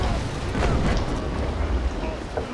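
Small 2-pound pickle guns on HMS Pandora fire in a naval battle game, a dense rumbling barrage of booms and bursts sustained throughout with a voice faintly underneath.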